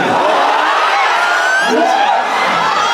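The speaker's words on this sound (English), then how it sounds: "before you're done applauding" A concert audience on a cruise ship applauds and cheers, a loud continuous wash of clapping with whoops and shouts rising over it, sustained without letup.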